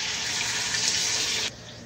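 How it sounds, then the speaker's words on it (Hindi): A cup of water is poured into frying meat in a karahi, making a steady close gushing splash that stops abruptly after about a second and a half. "अब इसमें डाल देंगे 1 कप पानी"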